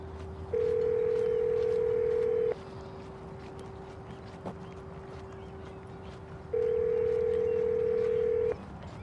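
A call to a US cell phone rings back as two long, steady, loud tones, each about two seconds, separated by a four-second gap of quiet line hiss.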